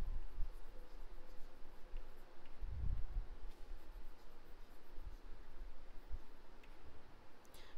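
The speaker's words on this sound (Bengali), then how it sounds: "এসো আমরা উত্তরটা লিখি" Someone writes an answer by hand, a quiet, steady scratching across the paper with a few soft low thumps and small ticks, close and faint, with no one talking.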